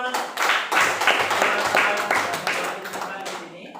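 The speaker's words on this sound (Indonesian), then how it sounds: "Beri aplaus." A classroom group claps together in a dense burst of applause that holds steady for several seconds, then thins out toward the end, with voices mixed in.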